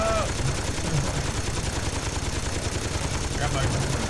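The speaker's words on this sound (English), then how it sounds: "We're firing light machine guns" Rapid light machine gun fire in Saints Row 2 rattles on steadily throughout, a dense continuous burst of shots with voices talking over it.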